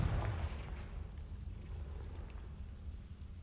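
Fire-blast spell explosion in the Hogwarts Legacy video game, a loud low burst at the start that fades into a rumbling, crackling tail lasting several seconds.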